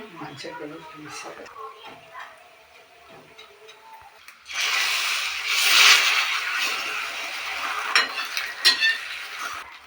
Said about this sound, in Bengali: এগ রোল হচ্ছে চলো ভাজা হচ্ছে